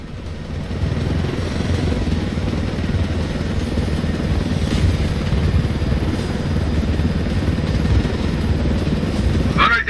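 A helicopter engine and rotor from the video game Ghost Recon Wildlands roar in a steady, loud, continuous drone, with a fast rotor chop throughout and no pauses.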